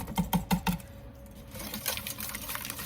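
A whisk works through chai tea cookie batter in a bowl, making a quick run of four sharp, evenly spaced clinks and then a softer, scratchy stirring, close by and with no talking.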